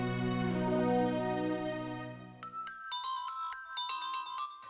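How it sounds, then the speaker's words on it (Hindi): A phone rings in a Hindi-dubbed horror film: a low sustained tone fades out, then a bright electronic ringtone chirps in a quick repeating melodic pattern, moderately loud. "रिंग बज रही है"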